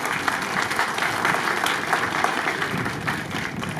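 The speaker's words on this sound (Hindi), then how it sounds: "मैं चाहता हूं एक बार इन पीटीआई के लिए एक बार जोरदार तालियां" Dense, loud clapping from the crowd at a block-level Rajiv Gandhi rural Olympics sports event in Jalore, a continuous sustained burst of applause from start to finish.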